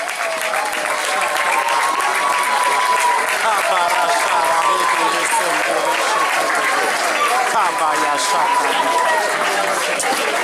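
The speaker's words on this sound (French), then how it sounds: "Sous vos acclamations." Audience applause and cheering fill a diploma ceremony for a pastoral Bible course, steady and loud throughout, with voices calling out amid the clapping.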